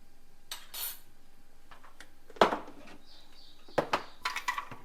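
A spoon scooping sugar into batter, heard as sparse close clinks and taps of metal on a bowl spread across a quiet background, with a few quick clatters toward the end.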